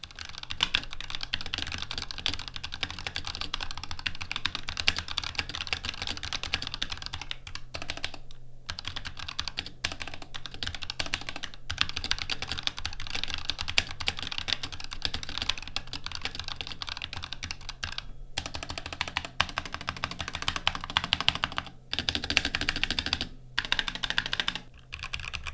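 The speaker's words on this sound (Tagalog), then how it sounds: "Sobrang lakas din ng tunog kapag nagtatype, lalong-lalo na kapag pinipindot natin yung spacebar." Continuous clacky typing on a Razer Huntsman Tournament Edition mechanical keyboard, steady and close, with brief pauses between bursts of keystrokes.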